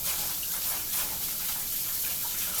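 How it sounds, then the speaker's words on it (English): Warm tap water runs steadily over raw chicken breast in a sink, a continuous hissing splash with no breaks. "I'm just doing a quick rinse with warm water"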